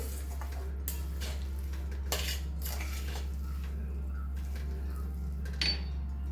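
Coarsely ground peanuts get stirred into a sesame and jaggery mixture for tilgul ladoo. A spoon scrapes and clinks against a metal vessel in scattered strokes over a low steady hum, with no talk.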